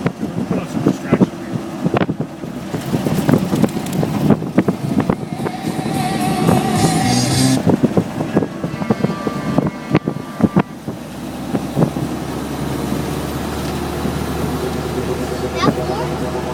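A 1936 Chevrolet truck drives along a road with a steady low engine rumble under heavy wind buffeting, and people talk throughout the drive.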